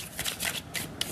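Oracle cards shuffled for a tarot reading, several quick riffling bursts close up, with no talking.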